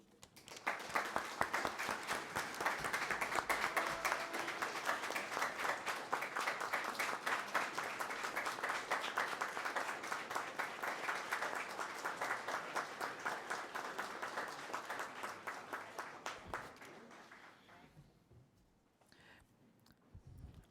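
Audience applause fills a hall at a city council honour-medal ceremony in Bauru: dense, steady clapping close and loud for about seventeen seconds, then thinning and fading out near the end.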